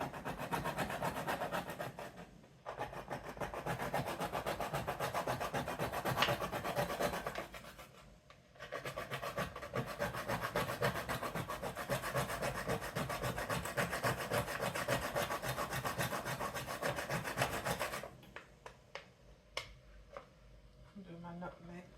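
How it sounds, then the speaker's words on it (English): Whole nutmeg grated by hand on a grater for spicing plantain porridge, long runs of quick close scraping strokes with two brief pauses, continuing under quiet talk. "I'm gonna grate my nutmeg."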